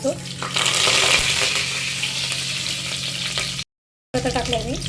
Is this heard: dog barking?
no